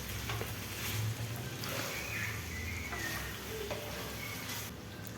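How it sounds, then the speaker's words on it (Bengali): Chicken liver and gizzard masala with coriander leaves stir-fried in a pan, a steady dense sizzle with soft scraping of the spatula throughout, close and continuous with no talking. "এবার দিয়ে দেবো ধনেপাতা নিয়ে আরেকটু কষাবো"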